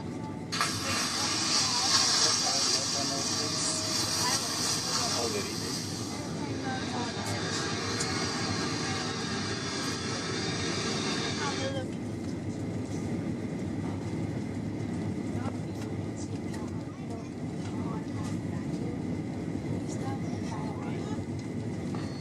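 Cabin noise inside a Delta Boeing 737-900 before takeoff: a steady, broad engine and air roar fills the cabin throughout, louder and hissier at first, then settling into a lower continuous drone, with an announcement voice speaking over it.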